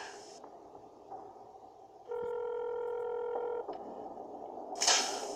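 A telephone number is dialed in Lolbit's Nightmare FNAF escape room video game: a steady electronic multi-tone beep holds for about a second and a half against a quiet background.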